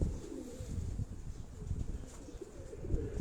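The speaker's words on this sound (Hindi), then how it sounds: "ये वो कबूतर है दोस्तों" A pigeon coos softly on a rooftop loft, low rumbling calls repeating against steady wind noise, with no talk over it.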